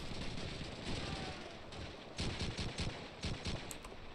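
Gunfire in Call of Duty 2 on the approach to Hill 400, rapid rattling bursts over a constant roar of battle, with a cluster of sharper close shots near the end.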